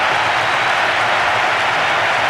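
A stadium crowd roars and cheers after a goal at a Brazil versus Japan football match, a loud, dense, continuous wall of noise that holds steady throughout.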